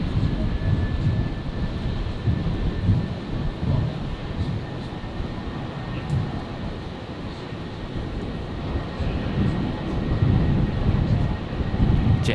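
Jetstar jet airliner rolling for takeoff on runway 01 right at Brisbane Airport, a continuous engine roar that swells and eases in waves, loud and fairly near, with no voices.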